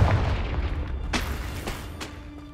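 Confringo fire spell blasts cast in Hogwarts Legacy: three sharp explosive bursts spaced about half a second apart over a steady low rumble of game ambience.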